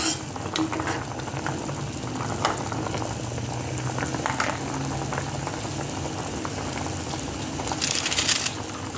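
Thai clear soup with carrots bubbling at a rolling boil in a pot, a continuous close churning burble with occasional louder splashes and no talking.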